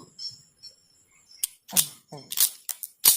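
An R45 gun is test fired, giving several sharp clicks and snaps, close and fairly loud, with spring and mechanism noises between them and quiet gaps.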